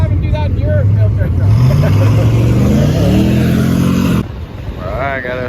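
A monster mud truck engine revs hard in first gear while pulling, climbing in pitch with a loud, rising roar up close, then cutting off abruptly; people shout over it.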